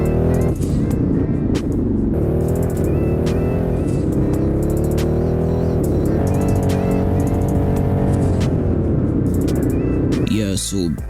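A Pagani Huayra's V12 engine drones loud and close with rising and falling revs, its pitch sweeping up and settling repeatedly over a steady engine roar, ending with a sharper burst of noise.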